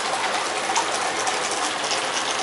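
Water pouring down a small decorative garden waterfall with stones and plants, a steady close hiss and splash of falling water with no breaks.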